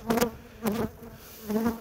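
Honey bee buzzing comes and goes in three swells, each lasting about a quarter second, with quieter gaps between them.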